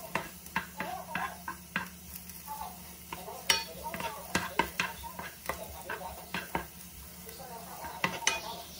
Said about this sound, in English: Continue to saute the mushrooms until it turns golden brown.